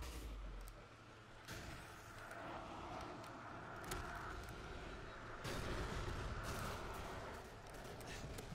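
Airstrike explosions in Call of Duty 4, a rumbling wash of heavy booms and rolling blasts, with a couple of sharper bursts standing out from a constant low roar of battle, fairly distant and muffled.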